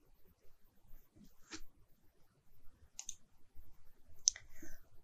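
Computer mouse clicks on OK in the RFEM 6 structural analysis software, a few short, faint, close clicks spaced apart over a quiet room background.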